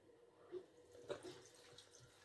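Broth pours into containers in a home kitchen, a soft splashing, trickling flow with a few small drips, faint and close.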